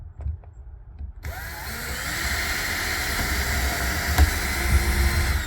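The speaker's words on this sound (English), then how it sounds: "We're gonna take and pre-drill with a 3/16 inch drill bit" Power drill spinning a 3/16 inch bit into wood, pre-drilling a hole at an angle near the end of a board; a steady, loud whine starts after a second of quiet and holds to the end.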